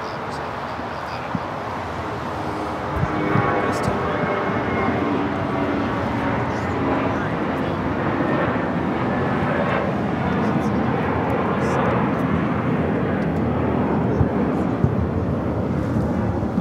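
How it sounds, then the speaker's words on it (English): An airliner takes off from runway 24 left at Los Angeles International Airport, a loud, steady jet engine roar that holds across the whole span with wind buffeting the microphone and people talking over it. "We'll head now to the north side for a takeoff on 24 left."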